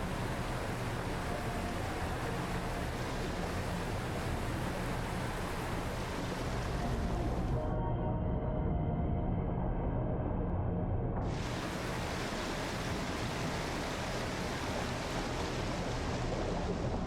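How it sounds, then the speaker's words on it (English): Water flooding into a submarine in the game Barotrauma, a loud, constant broadband rush of pouring water that briefly dulls to a muffled roar before surging back at full force. "I don't know why that makes water come in, but okay."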